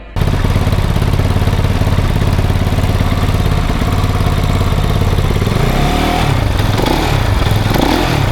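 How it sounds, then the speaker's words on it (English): A Kove 450 Rally motorcycle engine kicks on and settles into a loud, steady idle up close, its throbbing pitch wavering slightly toward the end. "We should start the engine first."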